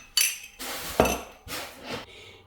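Tablespoon clinking against an air fryer dish while oil is spooned in, a few sharp metallic taps and scrapes in separate bursts, close and moderately loud, with no talking.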